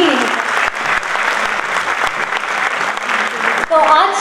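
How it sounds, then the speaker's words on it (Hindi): An audience at a stage music event breaks into sustained applause, a dense wash of many hands clapping throughout, with a voice heard briefly near the end. "थोड़ी और जोरदार तालियां करें।"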